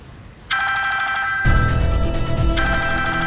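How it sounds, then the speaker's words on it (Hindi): A phone's electronic ringtone starts after half a second and keeps ringing steadily in a repeating melodic pattern, fairly loud and close. "ये फोन किसका बज रहा है?"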